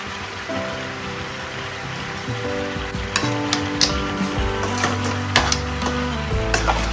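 Chicken fries in a pan with capsicum and turmeric, giving a steady close sizzle broken by occasional clinks and scrapes of stirring, with no voices over it.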